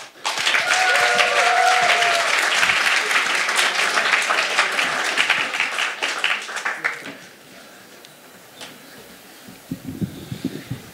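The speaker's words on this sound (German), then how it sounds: "Bitte begrüßen mit einem grossen Applaus den Ben!" Audience applause at a science slam in Freiburg greets a speaker, loud dense clapping with some cheering that runs for about seven seconds before fading into quieter room noise and a few stray claps.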